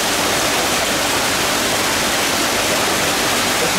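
Rushing water through a small Venturi air injector pipe aerating a koi pond, a steady loud broadband hiss and gurgle with no pauses and no voices.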